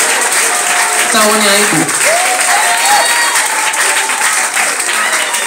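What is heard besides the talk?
audience applause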